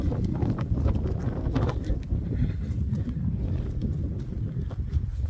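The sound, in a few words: wind blowing outdoors in a garden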